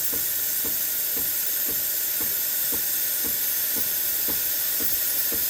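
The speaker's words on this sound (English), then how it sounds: "So the steam is working properly." A Breville coffee machine's steam wand hisses loudly and continuously, a broad steady rush with faint rhythmic ticking pulses beneath it throughout.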